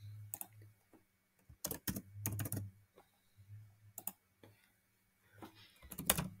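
Typing on a computer keyboard gives sparse clusters of quiet, close key clicks with gaps between short bursts, over a faint low hum in an otherwise quiet room.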